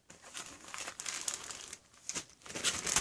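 Paperwork carried in a hiking and hunting backpack is handled close up, giving a steady, fairly quiet crinkling and rustling of paper with brief pauses and louder crumples toward the end.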